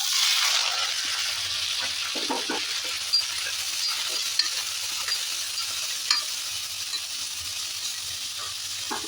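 Onions and tomatoes with chilli powder sautéing in oil, a continuous bright sizzle with intermittent spatula scrapes and small metallic clinks.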